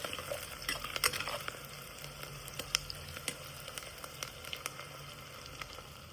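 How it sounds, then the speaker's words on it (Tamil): Onions sautéing in a pan for Tamil kaara kulambu, a steady low crackle and sizzle with small pops and scattered stirring clicks, fairly quiet and close, with no talking. "இப்போ வெங்காயம் நல்லா வதங்கிடுச்சு"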